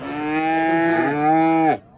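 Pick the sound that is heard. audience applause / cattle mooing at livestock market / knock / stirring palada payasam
cattle mooing at livestock market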